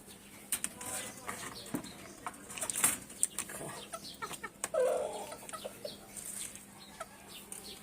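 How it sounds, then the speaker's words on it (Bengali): Chickens cluck and call at a rural home during feeding time, with short, moderately loud bursts and a few sharper squawks over a quiet yard background. "যে আমাদের মুরগিকে এখন দিবে খাবার"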